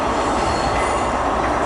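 A Great Western Railway unit, 152.234, moves through Bristol Temple Meads station with a steady, loud rumble and squealing wheels. No voices are heard.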